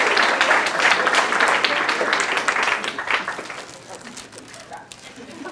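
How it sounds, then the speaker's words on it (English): A banquet audience breaks into dense, close applause that keeps up for several seconds before thinning and fading away. "But you can clap yourself."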